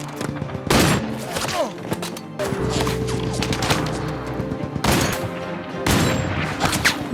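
Bursts of gunfire in PUBG on the Miramar desert map: repeated loud volleys and rapid automatic fire with booming shots, some close and sharp, others trailing off, spread across several seconds with brief gaps between.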